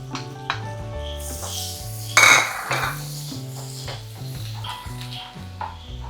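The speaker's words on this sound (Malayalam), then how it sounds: "അപ്പോൾ അതേ ഗാർലിക് ഇടാവാണ്, ഇടുകയാണ്, ഇട്ടിരിക്കുകയാണ്" Garlic is dropped into a pan for a creamy mushroom masala and sizzles while a metal utensil stirs and clinks against the pan. The clatter is close and loud, with one sharp scrape partway through.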